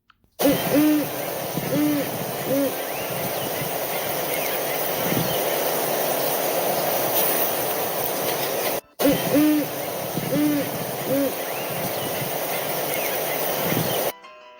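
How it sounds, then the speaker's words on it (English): An owl hoots in a short rhythmic series of low calls, repeated twice over a steady background hum, clear and fairly close. "Urunguu, owl."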